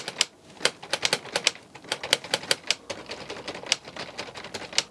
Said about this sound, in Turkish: Ama üzerinde harf veya noktalama işareti olan bütün tuşlar daktilonun kafasını oynatıyor